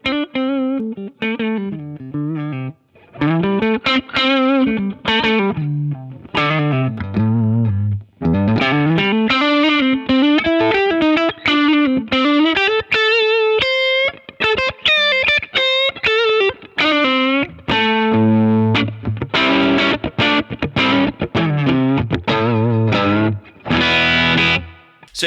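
Overdriven electric guitar through a gain pedal set low, playing loud, sustained bluesy lead lines and chords with thick harmonic distortion, steady and alone without talk.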